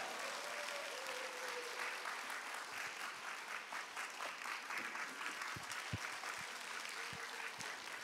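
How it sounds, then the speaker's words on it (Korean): A church congregation claps in welcome for the pastor, a steady wash of many hands with some sharper individual claps, fairly quiet and distant. "우리 박일신 목사님 나오실 때 우리 환영의 박수로 같이 함께 모시도록 하겠습니다"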